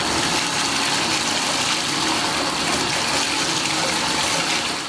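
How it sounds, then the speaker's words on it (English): Running water pours steadily from a tap into a bathtub being filled for a bubble bath, a loud, continuous rushing gush with no pauses. "let's go ahead and turn the water on now and let our bubble bar"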